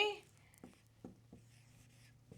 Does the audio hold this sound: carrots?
no